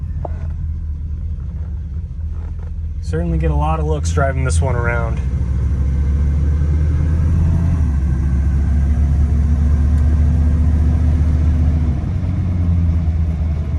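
A 1966 Ford Thunderbird's 390 V8 rumbles deep and steady as it drives, with the low engine drone building and holding under someone talking briefly early on.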